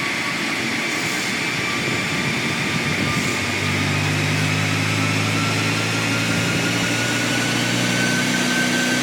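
A stock Volkswagen MK8 GTI engine idles steadily on a dyno, a constant mechanical drone with a low hum that settles partway through, with no talk over it.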